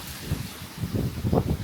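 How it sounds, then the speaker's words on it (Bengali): Wind blows through a village, low rumbling gusts buffeting the microphone in uneven bursts, close and moderately loud over a short stretch. "এই চলো একটা বাতাস ছাড়ছে"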